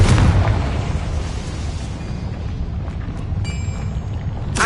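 A Confringo blasting spell from Hogwarts Legacy detonates in a loud, booming burst whose rumble lingers and fades, then a second sharp crack lands near the end.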